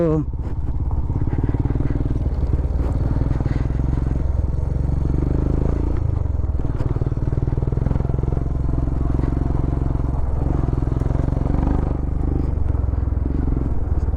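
Motorcycle ridden along a road on a biking trip to Somwarpet, its engine droning loud and steady throughout with constant wind and road rumble and no clear breaks.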